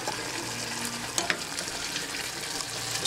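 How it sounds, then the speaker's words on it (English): Onions simmering in oil in a pan for Jamaican escovitch fish dressing, an even close sizzle running throughout with a couple of faint clicks and no talk. "you want to simmer it for about 3 minutes or so until the onion is transparent"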